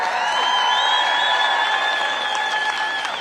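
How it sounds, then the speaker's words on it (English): A large crowd at a Get Out The Vote political rally in Richmond, Virginia, gives veterans sustained applause. Dense clapping with cheers and whistles holds steady for several seconds. "Let's give them a round of applause."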